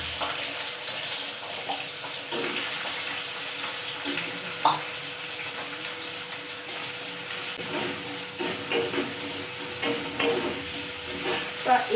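Potatoes frying in hot oil in a home kitchen make a continuous close sizzle with light stirring and scattered crackles, steady throughout, with no talking.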